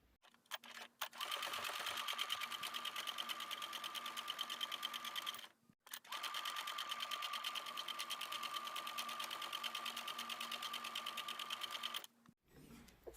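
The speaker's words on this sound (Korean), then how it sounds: "눌러받기 박음질 마무리 하겠습니다." A sewing machine topstitches the finishing seam on a handmade bonnet-style hat in two long, rapid, evenly buzzing runs. A brief pause separates the runs. The stitching is close and fairly quiet.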